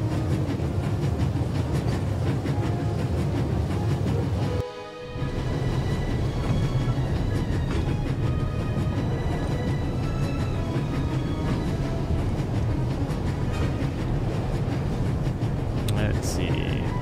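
A game train rolls along its rails with a steady, dense rumble and rattle that fills the scene; the noise briefly drops out for a moment, then resumes just as loud and continuous.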